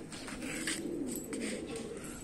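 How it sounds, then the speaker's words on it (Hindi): Pigeons coo softly and repeatedly inside a home loft, a steady low murmur of several birds at close range with no one talking. "ये बाकी सारे कबूतर भी दाना उठा रहे हैं"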